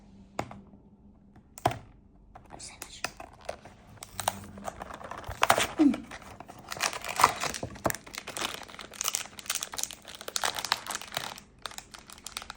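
A crinkly Japanese snack package is opened close up, with irregular crackling, crumpling and tearing sounds and some soft taps over a quiet background.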